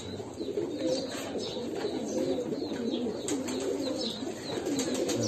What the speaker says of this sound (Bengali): এটা খুব সুন্দর কবুতর দেখা যায়